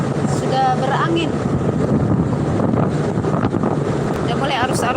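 Strong wind buffets the microphone in a constant roar over a passenger ship engine's low drone, with faint voices briefly audible in the background.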